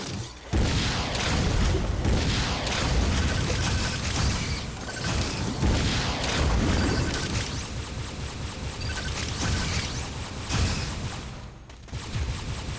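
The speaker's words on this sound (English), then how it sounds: "guess I need to use missiles." Missile fire from Samus in Metroid Other M, a dense run of booming blasts and mechanical clanks that keeps going loud the whole time, with no talking.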